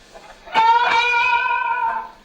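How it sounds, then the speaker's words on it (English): A thin, trebly electric guitar with one pickup reversed in phase sounds a few plucked notes, the bright, nasal tone sustaining briefly before fading out. "if I reverse the phase of one of the pickups, it goes very trebly"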